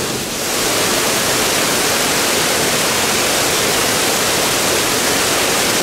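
A tiny creek dropping a couple of feet at a micro hydro intake with a trash rack screen, a loud, continuous churning rush of falling water close by.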